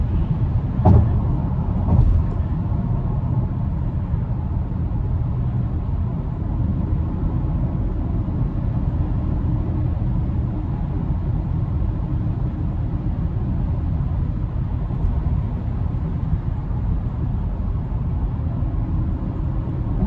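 A 2023 Acura MDX Type-S Advance cruising down a highway in Sport Plus mode, a steady low engine and road drone heard from inside the cabin with no break.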